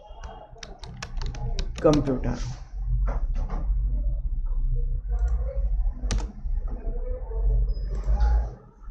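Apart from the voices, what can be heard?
typing on a computer keyboard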